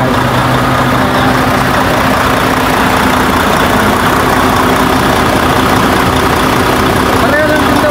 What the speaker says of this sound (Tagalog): So ito yung makina na guys.